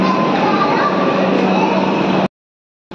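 A metro train at Dakshineswar, heard from inside as a loud, steady rumble and hiss of the carriage with a faint tonal whine, cutting off abruptly into silence near the end before resuming briefly.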